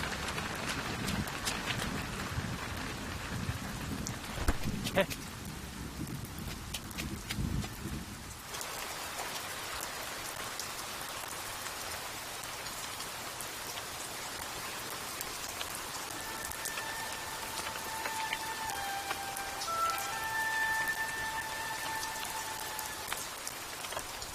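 Steady heavy rain pours down throughout, a dense broadband hiss of drops striking surfaces, with a few brief tones and clicks in the background.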